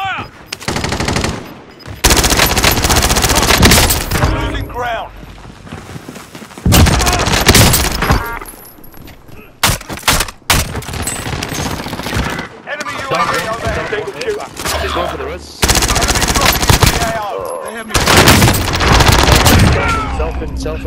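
Bursts of automatic gunfire and rapid shots in a video game shootout, loud and close, coming in repeated heavy volleys with short gaps, while players call out over the firing.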